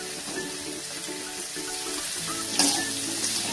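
Chopped onion and beetroot sizzle and fry in a pan for a Tamil beetroot poriyal, a quiet steady crackle with a slight stir or scrape partway through and no voices.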